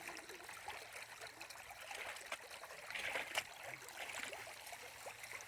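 Water trickles and dribbles steadily from a low-pressure outflow into a river during gemstone and gold prospecting in Kashubia, a continuous close splashing with no talk.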